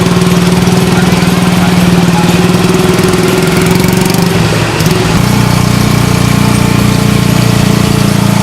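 A tuk-tuk engine runs steadily close by in Mukdahan, Thailand, with a loud, continuous mechanical drone and rattle that shifts slightly in pitch around midway.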